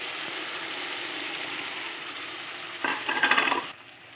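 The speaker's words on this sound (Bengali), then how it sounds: "নেড়ে চেড়ে পেস্ট করে রাখা গ্রেভিটা আমি দিয়ে দিচ্ছি।" Asafoetida and a paste gravy sizzle steadily in a pan, then a burst of louder spoon scraping and stirring comes near the end before it drops quieter, with no talking.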